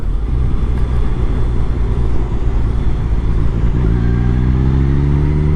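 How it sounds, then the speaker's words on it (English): Kawasaki Concours 14 motorcycle engine running hard at high speed on an open road, a loud steady drone with wind noise, shifting to a rising rev near the end. "The powerful engine made short work of that."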